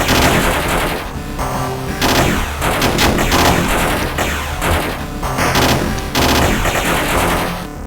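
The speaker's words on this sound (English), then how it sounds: "Oh, there's the machine gun." Machine gun fire in a video game, dense rapid bursts of shots with crashing impacts layered over loud game audio, continuous and close with short gaps between volleys.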